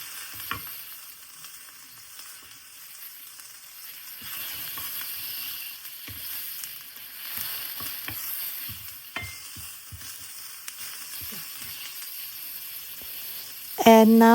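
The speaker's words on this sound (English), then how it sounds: "Add the onions. Fry it until it's shiny." Onions sizzle steadily in a hot pan for a kohlrabi dish, with scattered scrapes and clicks of stirring throughout and a brief louder clatter near the end; no talking.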